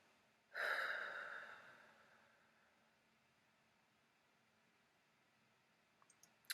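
A single breath pushed out through the nose, close and fairly soft, with an airy rush that fades over about a second and a half, followed by near silence and a few faint clicks at the end.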